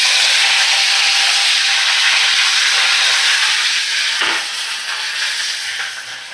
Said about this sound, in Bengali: দেখো, ওই গরম তেলে আমি এবারে কারি পাতা দিয়ে দিলাম।